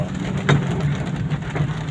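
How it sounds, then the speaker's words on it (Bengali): Rain pours down beside a road with a divider, making a steady broadband hiss with a few faint passing thumps and no voices. "বৃষ্টির দৃশ্য আপনাদের একটু দেখালাম, ভালো লাগবে হয়তো"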